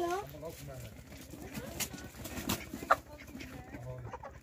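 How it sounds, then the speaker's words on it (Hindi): Hens fighting each other squawk and cluck in short agitated bursts amid rustling, with a person talking over the commotion. "जो मुर्गियां लड़ रही हैं आपस में"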